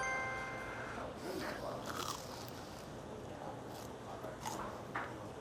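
Loud, close crunching and biting of crispy fried food at an all-you-can-eat hot pot restaurant, steady chewing crackle over busy background noise.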